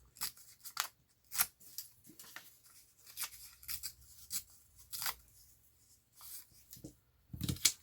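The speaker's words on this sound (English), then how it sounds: "I'm just going to rip down that one." Paper torn from a German book page, heard as a series of short dry ripping and crackling bursts with quiet gaps between them, close and fairly soft, with no voices.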